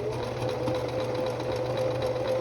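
A sewing machine stitches a buttonhole with a steady, rapid mechanical whir and a constant motor hum, close and fairly loud for a few seconds with no talking.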